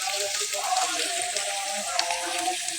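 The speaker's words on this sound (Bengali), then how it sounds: "এবার তেল গরম কম অবস্থায় দিয়ে দিচ্ছি থেতো করা রসুন এবং কাঁচা লঙ্কাটা।" Crushed garlic and green chilli sizzle gently in low-heat mustard oil seasoned with black cumin, a steady soft hiss and crackle heard close up.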